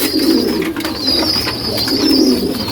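Pigeons being dosed with cold medicine coo in a loud, continuous low rumble of overlapping calls, swelling in two broad waves with a steady high hiss behind them and no voices.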